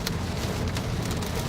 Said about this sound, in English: Oh, do you hear the rain?